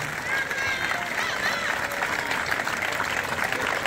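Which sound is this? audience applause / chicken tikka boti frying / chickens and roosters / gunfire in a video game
audience applause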